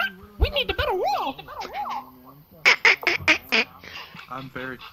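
A voice imitates Donald Duck quacking in a Trump-like manner, nasal squawking syllables in two rapid bursts, with ordinary speech around them in a VRChat game session.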